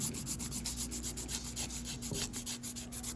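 A polygel nail tip being filed by hand gives a steady, close rasping rub, with rapid back-and-forth strokes repeating evenly throughout and no talking.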